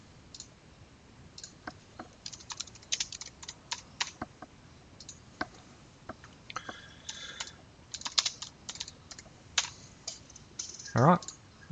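Typing on a computer keyboard while composing a test email in Outlook, irregular bursts of close, crisp key clicks with short pauses between them, ending in a quick flurry.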